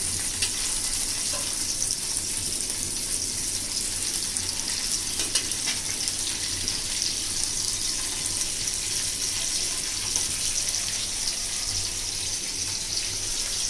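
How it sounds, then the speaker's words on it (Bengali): Fish fry in a pan with a continuous, even hiss and crackle at moderate volume, holding steady throughout with no talking. "তো এইখানে আমি ভেজে নিচ্ছি মাছগুলা।"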